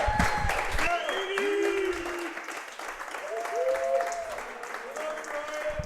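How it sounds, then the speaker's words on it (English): Applause and crowd noise fill the space while a voice speaks over it, the clapping steady throughout. "let's give one more round of applause"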